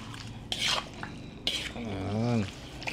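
A utensil stirs chicken in a pan of pineapple sauce with oyster sauce and vinegar, giving two short bursts of scraping and sloshing, close and moderately loud, with a brief voice between them.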